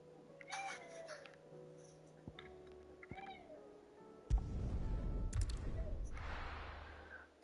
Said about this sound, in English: The cat is being very noisy.